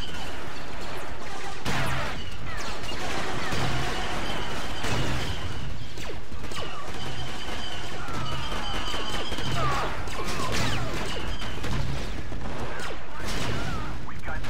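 Shotgun fire and other gunfire and explosions in the Star Wars Battlefront 2 video game crackle in a dense, continuous stream of sharp bursts throughout, with a voice talking intermittently over the combat.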